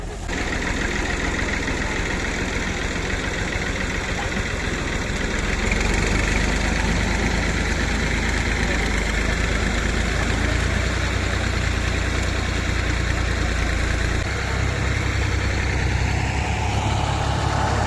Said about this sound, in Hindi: तो अभी ट्रैक्टर के जरिए ना ट्राली को आगे खींचेंगे